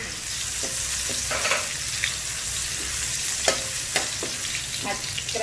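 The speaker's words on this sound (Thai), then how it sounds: "ใส่น้ำมันลงไปนะคะ แล้วก็เอากระเทียมลงเจียวจ้า" Garlic frying in oil in a pan for a stir-fried cabbage and glass noodle dish, a steady broad sizzle with small crackles and occasional stirring scrapes, close and continuous with no voices.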